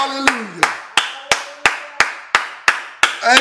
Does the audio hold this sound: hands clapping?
yes